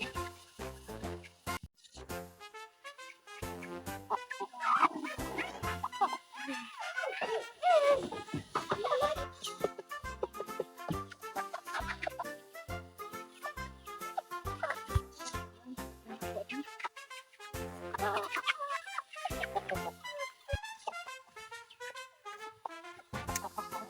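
Chickens clucking in a busy barnyard, with steady overlapping calls and a rooster-like crow, fairly close and continuous throughout.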